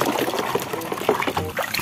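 Clean water pours and trickles steadily close by while toys are washed, a short run of light splashing.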